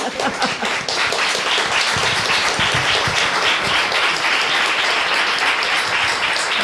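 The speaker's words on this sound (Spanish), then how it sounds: "Tienen ganas de aplaudir ya" An audience at a lecture bursts into loud, dense applause that carries on steadily for several seconds without a break.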